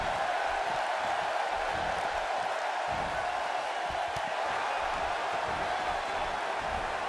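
A Milwaukee arena crowd in the wrestling game WWE 2K18 during a women's fatal four-way match, a continuous roaring wall of cheering that stays loud and even throughout without clear breaks.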